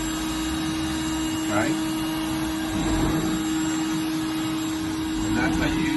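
Rainbow vacuum cleaner pulling cleaning solution back out of carpet, a steady motor drone with a constant whine, heard close as a person speaks briefly over it.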